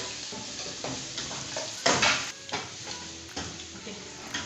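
Snails are stirred in a frying pan, giving a continuous close sizzle with spoon scrapes and clinks against the pan and one louder stirring burst midway.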